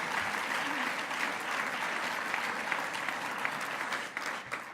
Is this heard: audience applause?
yes